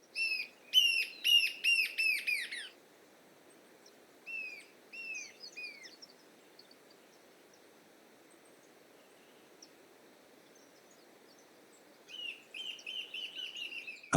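A bird in Buenos Aires sings a melancholic song of repeated descending whistled notes, a rapid series first, then a few sparser phrases, a quiet pause, and a final burst, clear and fairly close over faint background hiss.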